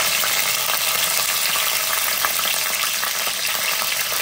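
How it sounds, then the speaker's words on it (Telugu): Chopped green chillies and onions fry in hot oil with mustard seeds in a pan, giving a loud, steady, close sizzle with constant crackle that never lets up. "కొద్దిసేపు ఇవంతా ఫ్రై చేసుకోవాలి."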